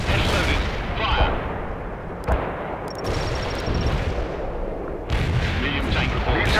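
Tank cannons in World in Conflict fire a few sharp booming shots amid continuous battle rumble and gunfire, while voices speak over the combat.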